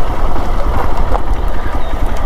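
A Hero XPulse 200 motorcycle idles in place during an off-road ride through a tea garden: a steady, close, loud engine rumble with a continuous throb and no clear revving.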